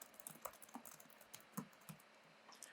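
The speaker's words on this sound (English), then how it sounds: "And I can type some details about what we're going to talk about." Computer keyboard typing in a quiet office setting: a loose run of individual key clicks, irregular in rhythm, close but soft.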